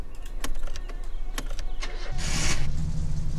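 In the My Summer Car video game, the Satsuma's engine cranks under a steady background drone with ticking clicks, then catches around two seconds in and runs with a rough, loud idle; nobody speaks.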